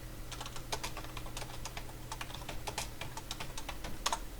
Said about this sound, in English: I'm just typing the same thing